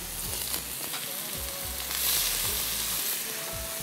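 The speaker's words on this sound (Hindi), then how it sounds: "यहाँ पर मेरे पास है एक प्याज चॉप हुई हुई, ये मैं शामिल करूँगा" Chopped onion frying on a hot tawa over a high flame, a steady close sizzle with scattered crackles and light scraping stirs throughout, no talking.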